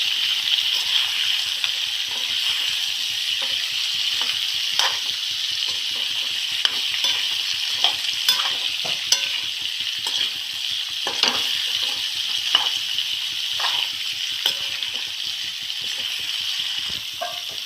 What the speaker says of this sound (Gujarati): હલાવી નાખીશું, એટલે આપણે હળદર ને મીઠું ભળી જાય